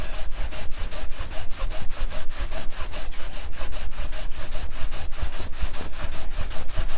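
Acetone-soaked rag rubbed back and forth over a shellac or vinyl sealer finish sample, a loud, close, rhythmic scrubbing of roughly three strokes per second held steady throughout, no talking.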